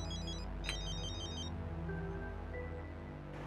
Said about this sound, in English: Ah, it's ringing.